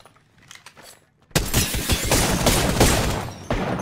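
Shotgun blasts in the video game Apex Legends: after a near-silent start, a sudden loud burst of gunfire and rapid impacts fills the rest, dense and close.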